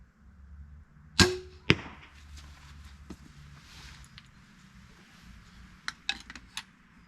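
Crossbow arrow loosed at a target at 30 yards, heard as a sharp snap followed a moment later by a second crack, then quiet rustling and a few faint knocks over low background hum.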